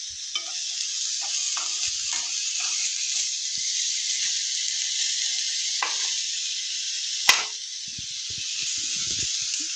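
Ridge gourd pieces stirred in a hot pan, with a steady loud sizzle of frying throughout and a few soft scrapes and knocks of the stirring spoon, one sharper clack near the end.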